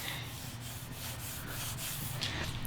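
Soft, gritty rubbing strokes against a yellowed, dirty plastic headlight lens on an Acura TL, repeating in a steady back-and-forth rhythm, close and fairly quiet.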